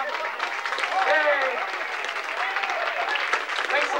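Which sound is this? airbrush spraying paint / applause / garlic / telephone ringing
applause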